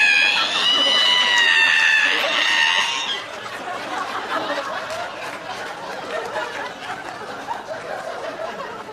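A comedian imitates a squeaky ironing board being opened, a shrill, wavering vocal screech for about three seconds, followed by crowd laughter and chatter.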